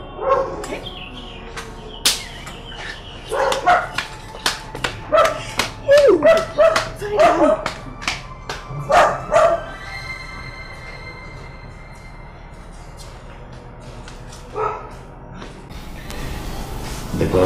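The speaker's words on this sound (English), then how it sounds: "Imagine even the dog in the palace is chasing you away" A dog barks in a quick series of sharp yaps, fairly close, then goes quiet, with faint background noise and a brief bark near the end.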